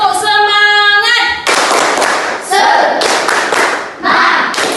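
A classroom of children doing the rhythmic 'tepuk semangat' spirit clap, loud close bursts of group clapping in patterned beats, opened by a short melodic tone and mixed with shouted voices.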